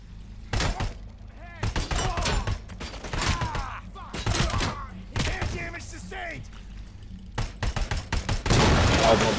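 Gunfire rings out in RoboCop: Rogue City combat, with sharp bursts of shots in uneven clusters, loud and close, broken by short pauses and ending in a heavier volley.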